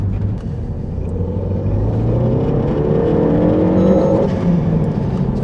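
A 2012 Renault Megane RS265 engine revs hard and steadily from inside the car, its loud, droning note climbing and holding as it bounces off an early rev limiter, with no talking over it.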